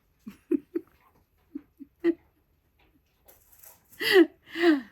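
Labradoodle dogs barking in the background at home, several short, muffled barks spaced out, then two louder, longer yelps closer by at the end.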